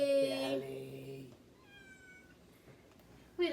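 A chubby, nearly year-old house cat gives a loud, drawn-out meow close by. A quieter stretch follows, with faint high voice-like tones, and then a brief sound returns at the end.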